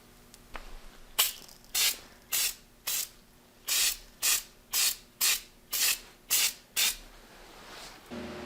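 Bed liner coating is sprayed from a can onto a motorcycle flip plate in about eleven short, regular hissing bursts, close and loud, with no one talking.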